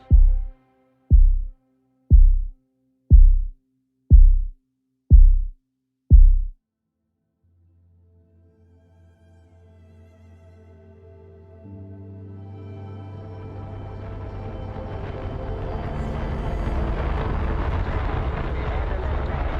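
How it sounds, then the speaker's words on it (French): Kerosene and liquid oxygen rocket engines roar at launch: six deep, evenly spaced heartbeat-like thuds come first, then a low rumble swells into a loud, sustained, crackling roar. "Lors du décollage, tout tremble. Les moteurs rugissent dans un vacarme assourdissant."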